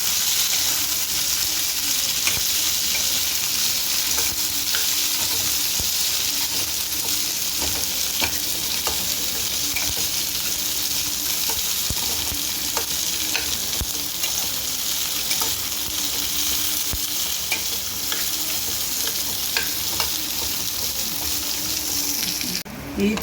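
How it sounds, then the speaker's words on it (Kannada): Brinjal (eggplant) peels frying in a pan for a chutney, a steady close sizzle with scattered stirring scrapes and clicks running throughout, no one talking. "ಬದನೆಕಾಯಿ ಸಿಪ್ಪೆನ ಹಾಕ್ಕೊಂಡು ಚೆನ್ನಾಗಿ ಸಿಪ್ಪೆ ಒಂದು ಸ್ವಲ್ಪ ಬ್ರೌನ್ ಆಗೋ ತನಕ ಫ್ರೈ ಮಾಡ್ಕೋಬೇಕು"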